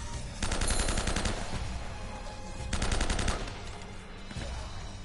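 Sniper and automatic gunfire in Uncharted ring out in two rapid rattling bursts, the first early and the second past the midpoint, loud and close over game ambience.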